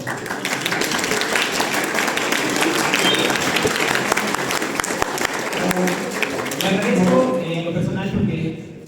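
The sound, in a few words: audience applause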